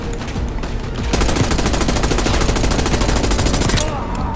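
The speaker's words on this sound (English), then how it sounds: "I'm shooting him." Rapid automatic gunfire from the Call of Duty Black Ops 6 campaign, a steady burst of closely spaced shots lasting nearly three seconds, loud and up close, with quieter game sounds before and after.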